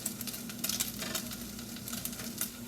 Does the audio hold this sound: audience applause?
no